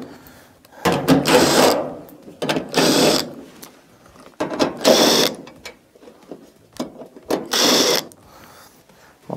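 Quarter-inch screws being backed out of the rear plate of an electronic clothes dryer, heard as close bursts of whirring and scraping separated by short pauses, with some knocks and rattles of the metal panel.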